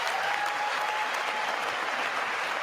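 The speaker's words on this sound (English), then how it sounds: "That was the dumbest clap I've ever seen in my life from Kamala Harris." A large audience in the House chamber applauds during the 2023 State of the Union address, a dense, continuous clapping that stays even throughout at a moderate distance.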